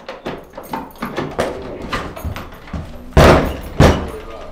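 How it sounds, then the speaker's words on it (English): A house door is handled and bumped during a property walkthrough while its lock fails, giving a series of knocks and thuds with two loud, close slams near the end, amid some talk. "This door won't lock."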